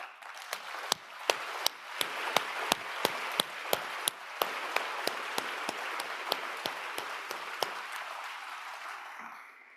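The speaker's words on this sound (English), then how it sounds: "Let's give him special applause." Applause at the closing ceremony of a world food forum: a steady wash of clapping from a large audience, with a few sharp individual claps standing out close by, fading near the end.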